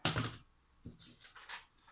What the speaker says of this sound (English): Sorry if I keep clunking the scissors down too.